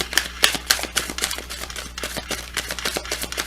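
Rapid, crisp papery flutters and taps repeat in quick bursts as tarot cards are shuffled close by, with no talking.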